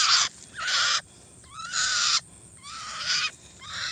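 Three birds give several loud, harsh calls in separate bursts, close by, with short quiet gaps between them, outdoors near farm fields.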